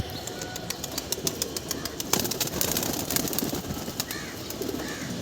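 Pigeons in a loft coo softly in a few low rolling calls during an afternoon rain bath, faint against a steady background of patter, chirps and occasional wing flaps.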